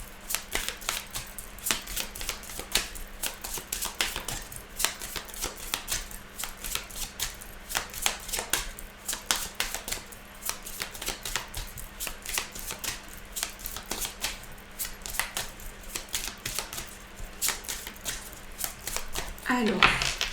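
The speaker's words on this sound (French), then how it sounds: "Donc, j'ai reçu ce tarot hier. Donc, on va mélanger" Tarot cards shuffled by hand in a steady run of rapid, close riffling flutters lasting throughout, fairly quiet, ending with a brief voice.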